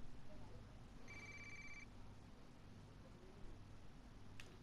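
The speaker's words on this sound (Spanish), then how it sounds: "¿Qué teléfono sonó?" A telephone rings once in a video game scene, a short electronic ring over a low steady background hum, with a faint click near the end.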